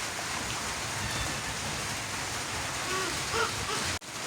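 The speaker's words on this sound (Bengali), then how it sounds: "এই বৃষ্টি তো ছাড়ার লক্ষণ নেই।" Heavy rain falls steadily in a village, a dense and constant hiss at even loudness throughout, with a few faint sounds in the background.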